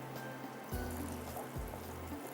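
Water poured into a pot of seekh kabab biryani layered with oil, a soft steady trickle with a few low splashy bursts, close by and alone without talk.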